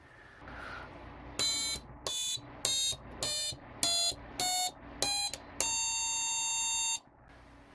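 A modified electronic toy piano plays seven short, buzzy, electronic tones in a quick stepped sequence, then holds one long tone for over a second. The notes are loud and clear against a quiet background.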